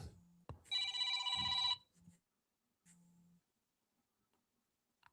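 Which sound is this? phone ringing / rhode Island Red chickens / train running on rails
phone ringing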